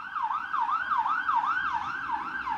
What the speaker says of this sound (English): Yes, fire engine.